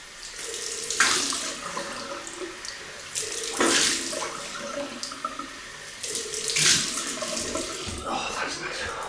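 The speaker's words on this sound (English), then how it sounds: "Cold water rinsed, which will be very welcome." Cold water runs from a tap for rinsing after a shave with a double-edge razor, a steady splashing gush rising and falling as hands pass under the stream, close and fairly loud.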